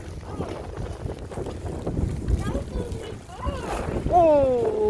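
Strong wind blowing during a wet snowfall, gusting and buffeting the microphone outdoors with a rough roar, while people talk over it.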